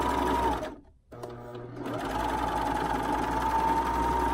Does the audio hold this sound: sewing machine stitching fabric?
yes